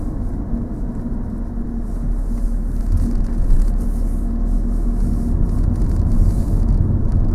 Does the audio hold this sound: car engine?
yes